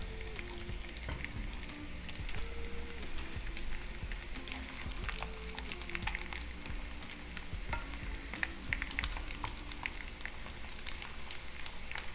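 Short-cut pieces of sea snakehead fish fry in oil with a dense, continuous crackling sizzle and scattered pops. A faint, steady hum with a shifting tone runs underneath, and there is no talk.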